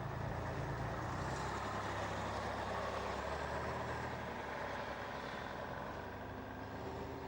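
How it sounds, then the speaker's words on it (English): A preserved Metropolitan double-decker bus, registration GJF 301N, its engine droning steadily and fairly quietly throughout, with no voices. "A fine example of a preserved vehicle is this Metropolitan, GJF 301N."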